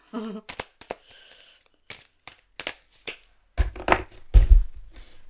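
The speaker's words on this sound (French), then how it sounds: "j'essaie de ne pas faire trop de bruit avec mes cartes" Soft papery flicks and riffles of tarot cards being shuffled, a series of brief crisp bursts growing a little louder toward the end, with quiet gaps between.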